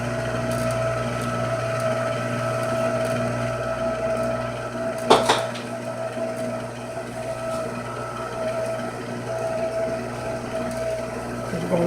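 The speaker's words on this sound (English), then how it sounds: "We're going to let that mix for a minute." An electric mixer beats dessert batter with sifted all-purpose flour, a steady whirring motor drone that runs throughout, close up, with one short rattling knock partway through.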